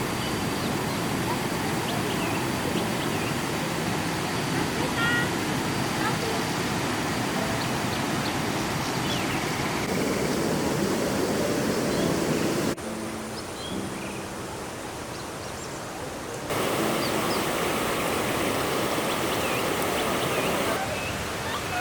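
A river cascade rushes over flat, slippery stones in a Malaysian rainforest, a dense, steady roar of white water heard up close and continuous, briefly dipping as the mix shifts midway, with people talking over it.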